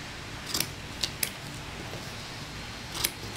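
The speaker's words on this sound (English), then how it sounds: "then we'll get our scissors and we trim them" Scissors trim woven paper strips for a star-spangled paper flag craft, with about four crisp, close snips spread across a quiet background and no talking.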